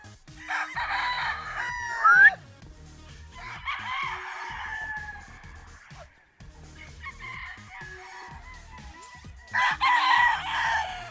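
Rooster crowing several times, close and fairly loud, with bursts at the start, middle and end separated by quieter clucking and background sounds on a breeding farm.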